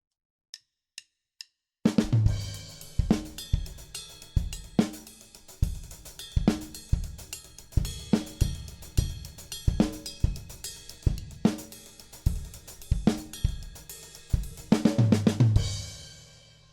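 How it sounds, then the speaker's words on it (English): A drum kit plays a halftime shuffle variation after three soft count-in clicks, with steady swung hi-hat or cymbal strokes, heavy backbeat hits and kick accents, close and loud for the whole stretch. "He made a variation of the halftime shuffle,"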